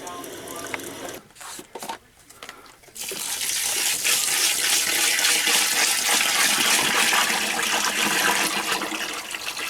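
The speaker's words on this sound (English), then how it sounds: "I'm going to find out in just a second when I pour it. 2 to 3 gallons of hot water." Two gallons of hot water are poured in a steady, loud, continuous rush into a mixing container while making homemade modeling clay, starting after a few seconds of quieter handling noises and running unbroken to the end.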